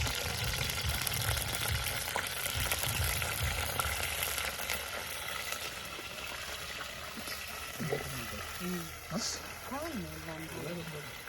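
Seafood fries in a pan with a steady, dense sizzle and crackle throughout, joined by a few clatters and voices talking toward the end.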